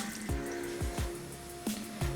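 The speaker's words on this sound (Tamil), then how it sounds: "1 டம்ளர் அளவுக்கு தண்ணி விட்டுக்கோங்க." Water poured into a tumbler for a herbal decoction, heard as a few short, faint splashes and drips in a quiet room.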